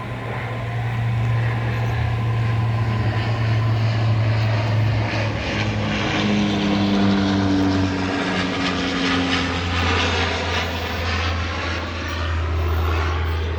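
A propeller airplane flies overhead near a railway station, its loud, droning engine roar filling the air with steady low tones that shift in pitch as it passes, continuous and close.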